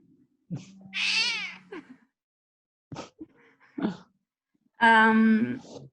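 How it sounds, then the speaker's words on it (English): A domestic cat meows several times up close, drawn-out wavering cries separated by pauses, with a few soft chirps between them. "this is my cat"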